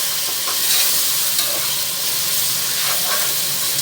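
Ginger garlic paste and green chillies frying with onions in a pan for Egyptian rice, a steady loud sizzle with occasional stirring scrapes throughout, with no talking.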